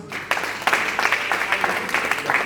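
A church congregation applauding and cheering for Jesus Christ, a burst of clapping that starts abruptly and continues in uneven waves, fairly loud and close, with a voice faintly under it.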